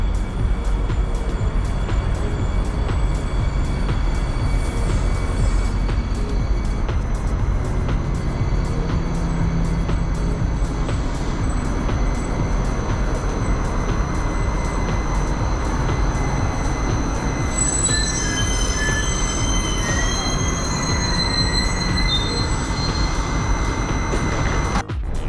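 A Hudson Bergen Light Rail tram running along the line, a loud continuous rumble of wheels and motor with high squealing tones building in the final seconds.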